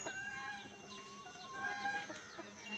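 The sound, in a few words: desi (gavran) chicken chicks being released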